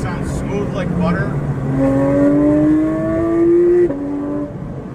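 A Porsche 992 GT3 six-cylinder with a Dundon exhaust winds up in a rising, high wailing rev that climbs steadily and then cuts off abruptly, with a brief blip afterward, while someone speaks faintly at the start.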